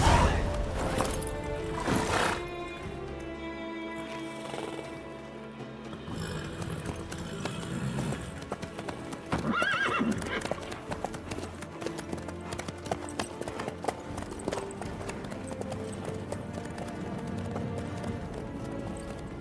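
Hooves clip-clop steadily on the ground in The Witcher 3 video game, a horse moving at a steady pace under a game soundtrack and ambient effects, with a short whinny early on.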